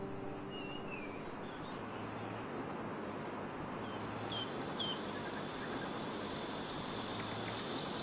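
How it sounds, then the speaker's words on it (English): A steady, high-pitched buzzing of cicadas drones on outdoors, growing fuller partway through and continuing without pause. "Summer, with its burning sun, comes as expected, accompanied by the noise of cicadas"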